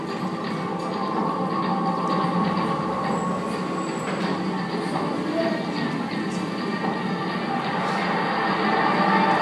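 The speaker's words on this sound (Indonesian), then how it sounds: "Ada juga kereta api yang akan datang." A railway train rolls by with a steady loud rumble and metallic wheel noise that holds throughout, with faint high squealing above it.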